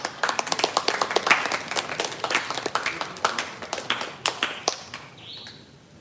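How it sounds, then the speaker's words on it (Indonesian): Applause from an audience at a dance performance event comes as scattered, uneven claps, loud at first and then thinning to a few sharp claps near the end. "berikan tepuk tangan sekali lagi"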